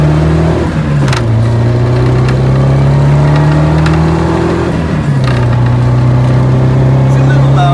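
Honda Civic with a B16 engine swap and a loose, clamped-together exhaust revving loudly and continuously, pitch rising and dropping as it pulls away, close and dominant throughout.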